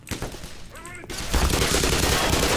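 Rapid bursts of gunfire in the shooter game Black Mesa, a volley of close, loud shots followed by heavier sustained firing with rumbling echoes.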